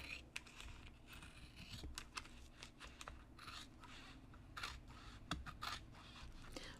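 Scissors cut through paper while making a handmade junk journal with a glued spine, a run of close, quiet snips and rustling scrapes in steady succession with no talk.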